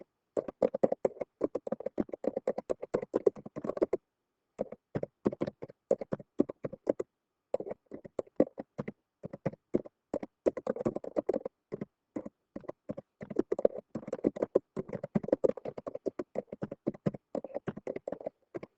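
Fingers type directions on a computer keyboard in quick, irregular bursts of soft clicking keystrokes, with short pauses between runs, close and quiet, with no voices.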